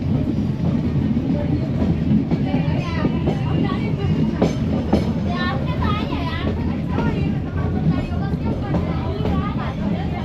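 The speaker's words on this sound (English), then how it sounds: "our train will reverse its direction here" A meter gauge train at Talala Junction rolls with steady rail noise and clickety-clack under continuous talk, close and fairly loud throughout.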